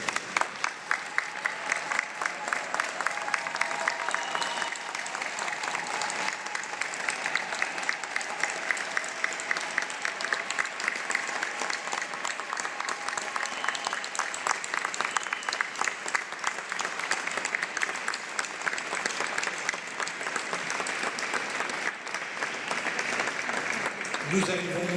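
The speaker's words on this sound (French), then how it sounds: "les spectateurs se lèvent et l'applaudissent pendant 1 minute pour lui dire merci" A standing audience at a funeral ceremony applauds without pause, dense continuous clapping that holds at an even level for the whole stretch.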